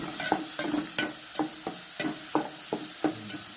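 Onions sautéing in a hot pan for a mushroom gravy, with about eight scraping stir strokes at a steady rhythm over a soft, continuous sizzle, close and alone.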